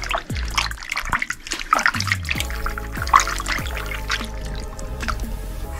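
Water splashing and trickling over freshly cleaned razor clams as they are rinsed of sand, with irregular drips and pours close by and no talk.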